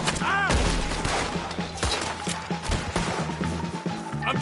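A chaotic Red Dead Redemption 2 shootout around a wagon, with gunshots cracking in bursts beneath loud shouting voices, horses and clatter mixed in.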